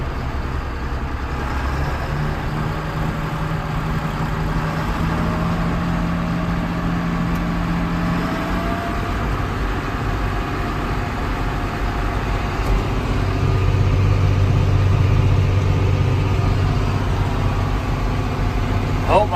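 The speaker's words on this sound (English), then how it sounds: "Just want to try to give you a feel for how the little tractor runs and drives." A small 1992 John Deere 4055 tractor engine drones steadily in high gear around 1300 RPM, a continuous low rumble with a faint rise in pitch and loudness toward the end.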